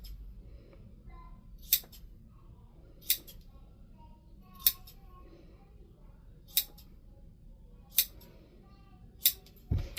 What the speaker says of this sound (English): And then I'm going to trim down the bulk at the seams.